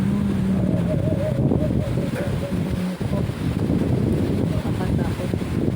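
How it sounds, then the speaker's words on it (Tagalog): Strong wind blowing outdoors, a steady roaring buffet across the microphone, continuous and loud, with a voice speaking over it in places. "Ang lakas ng hangin."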